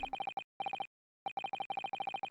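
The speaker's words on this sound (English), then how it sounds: "A meaningless series of 2 different tones" Two music box discs in Ace Attorney play a rapid repeating electronic beeping of two tones, in quick bursts separated by short gaps and a longer pause, clean and isolated.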